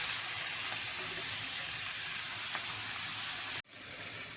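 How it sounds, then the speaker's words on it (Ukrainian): Eggplant pieces tossed in oil fry in a preheated pan with a dense, steady sizzle and hiss throughout, cutting out abruptly near the end before resuming. "Перекладаю на розігріту пательню і обсмажую до гарного золотистого кольору."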